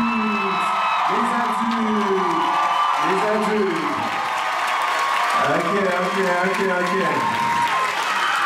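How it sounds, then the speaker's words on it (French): Audience applause and cheering at a Montreal dance show, a steady wash of clapping with whoops and shouts from the crowd, while a voice speaks over it throughout. "Et là, on va applaudir pour ces jeunes gens-là."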